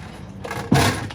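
A solid set of entry steps on a 2020 Keystone Hideout 175LH travel trailer locks into place with a single sharp clunk after a brief rustle of handling.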